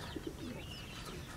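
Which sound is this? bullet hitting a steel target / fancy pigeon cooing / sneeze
fancy pigeon cooing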